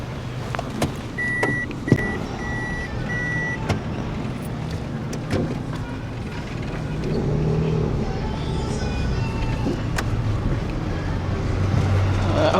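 A car on a test drive after repair, steady engine and road rumble from inside the cabin with clicks and knocks early on and a low hum that grows slightly louder later.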